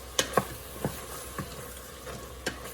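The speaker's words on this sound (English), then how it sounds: "Just give it a stir." Cajun chicken and sausage jambalaya stirred in an Instant Pot, a few sparse, close, soft spoon knocks and scrapes spread over a quiet stretch.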